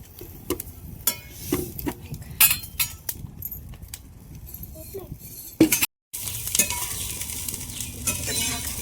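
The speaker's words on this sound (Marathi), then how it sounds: "मिरच्या तेल आणि लसूण टाकलं मिरच्या चांगल्या भाजल्यात" Green chillies and garlic roasting in oil on a wood-fired chulha: soft sizzling with scattered clinks and scrapes of a utensil against the pan, close by, with a brief dropout partway through.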